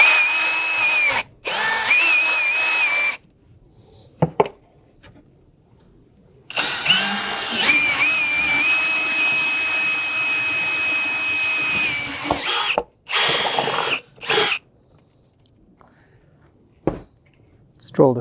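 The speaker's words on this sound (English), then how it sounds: "we are going to drill a hole directly in the center of this" A power drill bores a large hole through the center of a battery box for a LiFePO4 build, loud whining bursts close up, the longest run several seconds, separated by pauses and short restarts.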